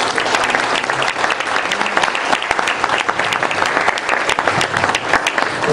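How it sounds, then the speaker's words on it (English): A meeting audience breaks into sustained, dense applause, many hands clapping loudly and evenly from start to finish. "I think we owe them another round of applause"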